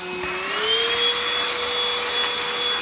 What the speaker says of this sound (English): it's a good little hand vacuum cleaner if that's what you're looking for